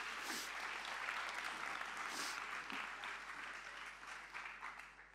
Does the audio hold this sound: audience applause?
yes